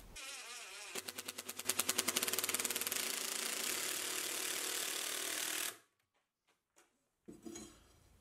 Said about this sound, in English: screwing like this into dense oak, I must say an impact driver does really well